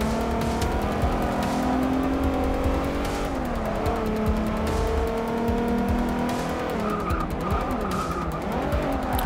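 A VW Golf GTI VR6 Mk3 races in Forza Motorsport 6, its engine droning loudly and continuously as it accelerates, with rising and falling pitch. Tyre squeal and skidding layer over the engine throughout, and no voice is heard.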